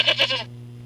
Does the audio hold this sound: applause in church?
no